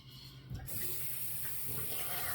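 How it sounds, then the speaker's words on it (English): Running tap water splashing over hands being rinsed at a sink after shaving, a steady close hiss that starts abruptly and continues to the end. "Rinse our hands."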